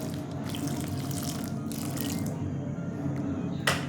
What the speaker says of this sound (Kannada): ಸ್ವಲ್ಪ ನೀರು ಹಾಕ್ಕೊತೀನಿ